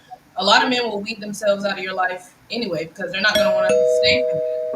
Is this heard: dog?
no